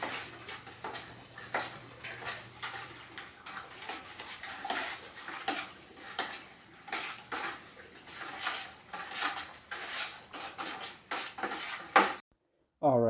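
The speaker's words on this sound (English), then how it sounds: "just wanted to get some close-up shots of that fermentation being stirred" A spoon stirs a fermenting sugar mash wash vigorously in a container, giving irregular clattering scrapes and sloshing knocks that come close and fairly loud, with a brief silence near the end.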